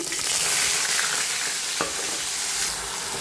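Cumin, kasuri methi and onion paste frying in hot oil for channa masala gravy, a steady close, loud sizzle with a brief stirring scrape partway through.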